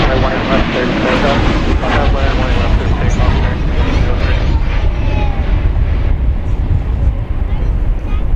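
An American Airlines Boeing 737-800 arriving from Austin at Dallas Fort Worth Airport makes a loud, continuous engine roar close by, rumbling heavily throughout.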